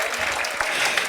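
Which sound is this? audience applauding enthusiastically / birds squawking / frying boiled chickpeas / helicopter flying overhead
audience applauding enthusiastically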